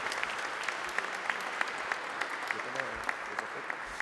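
Audience applause at a regional general assembly meeting in Hauts-de-France, thanking presenters; steady clapping with regular sharper individual claps runs throughout, with faint voices underneath.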